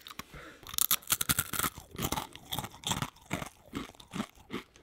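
A crunchy snack chewed up close, loud repeated crisp crunches and bites in an uneven rhythm with no talk.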